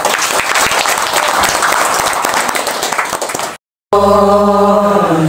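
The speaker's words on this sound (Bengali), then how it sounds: "আমরা তার জন্য আরেকটিবার হাততালি দেই।" An audience at a women's monthly church gathering gives a burst of loud, dense applause that runs for several seconds, then cuts out briefly before a sung melody begins.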